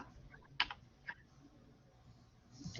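Typing on a computer keyboard: a few separate soft clicks at an uneven pace, close by but faint, in a quiet room with no talking.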